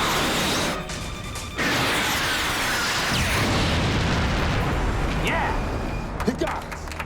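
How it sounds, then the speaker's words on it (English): Movie sound effect of a missile launch and explosion, a loud sustained roar and rumble that fills the scene, with voices speaking over it. "Missile launch."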